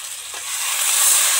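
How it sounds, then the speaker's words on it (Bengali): Water goes into a hot pan of sizzling prawn curry masala for a tiger prawn kalia with potatoes, and the frying hiss swells into a loud, steady steaming sizzle with no talking. "এবার একটু জল দিয়ে দেব।"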